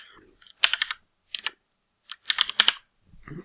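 Bursts of clicky typing on a computer keyboard come in three short clusters separated by pauses, crisp and close-miked, with no one talking.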